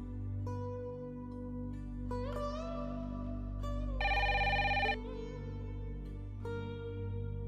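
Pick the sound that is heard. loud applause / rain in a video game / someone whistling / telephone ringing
telephone ringing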